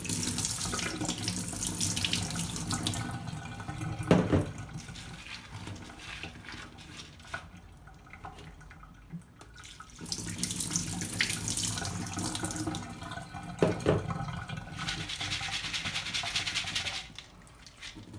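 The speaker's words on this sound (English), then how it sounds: "So I'm going to wash them now." Filtered water runs steadily into a sink, rinsing lentils, pausing briefly midway before flowing again, with occasional clinks of a sprouting jar.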